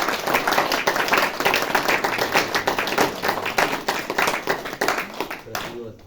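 An audience at a motivational talk during a Navratri shivir claps in a sustained burst of applause, with a voice speaking over it before it fades out.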